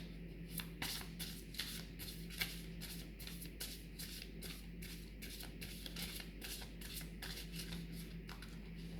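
Steady, rhythmic card shuffling, soft repeated riffles and flicks at an even pace over a low constant hum, close and fairly quiet.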